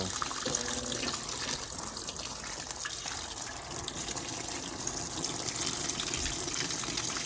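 A Maytag commercial washer with its lid up fills with water in a steady, rushing gush that holds on throughout, alongside a brief rhythmic mechanical rattle near the start and no speech.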